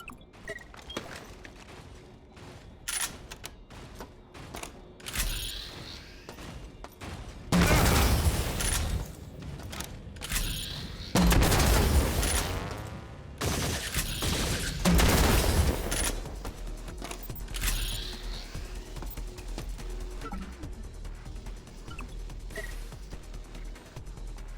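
Frag grenade explosions in a video game, several loud booming bursts among rapid crackling gunfire, a busy dense battle mix with no clear voices.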